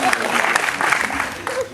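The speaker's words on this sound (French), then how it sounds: "c'est mon tonton, on peut l'applaudir" Short burst of audience clapping for a family member invited on stage at a live show, mixed with chatter and partly under speech.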